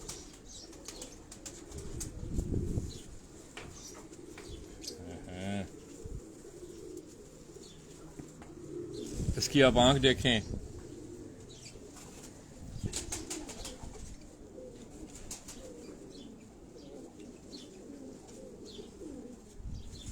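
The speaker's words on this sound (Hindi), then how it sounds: "तो ये आप इस कबूतर को देखें" Pigeons on a Karachi rooftop give low coos and a burst of flapping wings midway, with faint chirps around them, while someone talks quietly over the birds at intervals.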